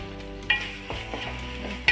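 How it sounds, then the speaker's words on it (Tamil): Green gram (mung beans) added to a frying pan with mint and stirred, giving a soft sizzle under scraping spoon strokes and a few sharp metallic clinks, close and moderately quiet, with no one talking. "பச்சை பயிறு போட்டு இப்படி நல்லா ஒரு மிக்ஸ் பண்ணிட்டு"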